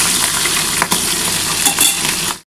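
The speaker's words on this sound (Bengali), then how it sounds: "ট্যাংরা মাছ ভীষণ ফাটে তো বন্ধুরা, তাই জন্য একটু আস্তে করে ভাজছি" Tangra fish frying gently in hot oil, a steady close sizzle with faint crackles and a few louder pops, running continuously until it cuts to silence near the end.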